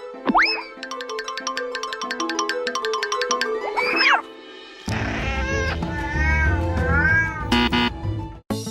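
Cats meow repeatedly in high, bending cries, set against a cartoonish springy boing and chiming tones. A busier stretch of mixed meowing follows.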